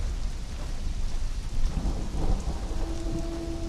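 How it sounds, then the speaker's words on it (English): A thunderstorm in the video game Conan Exiles: steady, dense rainfall with deep thunder rumbling and swelling midway, plus a faint sustained tone toward the end, with no talking. "there's lightning every now and then"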